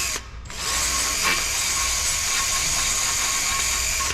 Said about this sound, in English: little deburr tool like this. Just going to run it in, just to take, I'm not pressing hard, just taking the surface lumps and bumps off